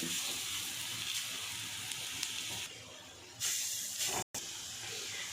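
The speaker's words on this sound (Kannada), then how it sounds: "ಈ ಥರ ಇದನ್ನು ಎಣ್ಣೆನಲ್ಲೂ ಕರಿಬೋದು" Vada batter pressed into small rounds and deep-fried in hot oil, giving a steady, close hiss and fizz that runs throughout, briefly rising then cutting out for an instant before resuming.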